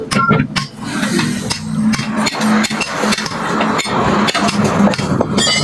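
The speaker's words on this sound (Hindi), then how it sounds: "टायर दो हथौड़ी में ही खुल गया" Hammer blows on a tyre being worked off its wheel rim, a series of sharp metallic strikes in a steady, irregular rhythm, close and loud, with clinks and workshop noise between hits.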